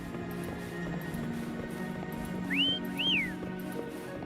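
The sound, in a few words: whistling to call a horse, from a video game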